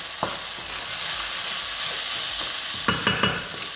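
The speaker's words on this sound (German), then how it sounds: "So, den Reis umrühren" Rice is stirred and fried over low heat in a pan for Turkish pilav, giving a steady close sizzle broken by a few scraping stirs of the utensil, with no talk.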